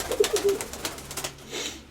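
A pigeon sitting at its nest gives soft, low coos in short bursts, close by and fairly quiet, with rain in the background.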